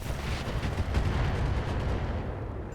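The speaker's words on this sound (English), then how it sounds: "I don't mind the sound of the machine guns." Rapid machine gun fire from mech combat in the BattleTech video game, a dense, sustained burst of loud crackling shots that fades near the end, with no talk.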